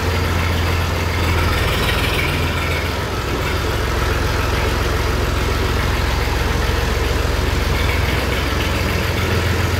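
A tractor engine idles steadily and close by, a continuous low rumble that stays even and unbroken throughout with no voices over it.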